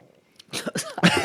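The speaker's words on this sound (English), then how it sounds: "I'm trying not to cough into the mic." A person coughs several times in quick succession, close to a microphone during a bourbon tasting, with harsh bursts following a quiet start.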